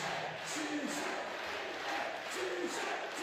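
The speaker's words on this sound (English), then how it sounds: "His name being chanted by the crowd" A large powerlifting crowd at a world-record deadlift attempt chants the name of Krzysztof Wierzbicki, rhythmic collective voices rising and falling steadily throughout, dense and reverberant.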